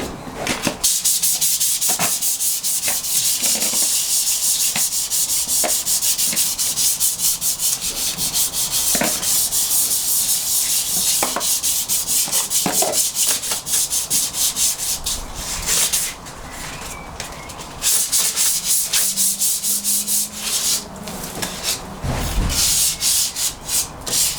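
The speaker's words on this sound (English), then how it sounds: "just going to give it a quick wet sand" Wet sanding of body filler on a MK2 Golf's rust repair under the fuel filler cap, a close, steady rasping scrub that goes on back and forth for over twenty seconds with one brief pause.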